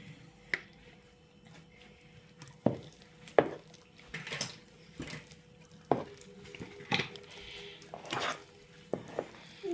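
Batter with oil being stirred in a bowl, soft wet squishing strokes with light clinks of the utensil against the bowl, quiet and close, repeating irregularly.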